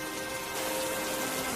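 Rain falls in a cartoon village scene, a soft continuous wash of drops, fairly faint and steady, growing slightly fuller midway, with no talking.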